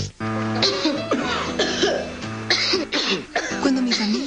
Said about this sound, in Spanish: Cuando mi familia tiene tos,